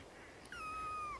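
A single thin, high kitten meow, drawn out and slightly falling in pitch, quiet and close, over faint background hiss.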